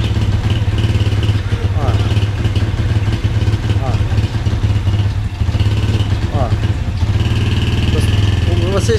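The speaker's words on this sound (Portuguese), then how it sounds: "se vocês forem acelerar a moto rapidamente, ela afoga, correto?" A motorcycle engine idles roughly and sputters, bogging down and struggling when revved quickly rather than climbing, with talking over it.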